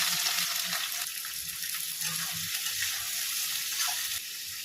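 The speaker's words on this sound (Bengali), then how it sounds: "পেঁয়াজটা ভেজে নেব" Sliced onions frying in a pan over fenugreek seeds for Bengali dal, a continuous hissing sizzle, steady and close, with no talking.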